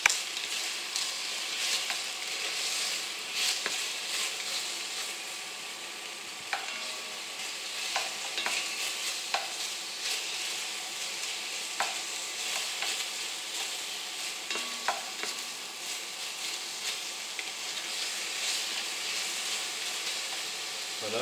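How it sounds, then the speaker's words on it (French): Fish bones sweating in a hot pan with aromatic vegetables for monkfish, a continuous bright hiss with scattered clicks and scrapes of stirring, close and steady with no talk. "c'est vraiment juste pour on va dire raidir un peu faire suer des arêtes"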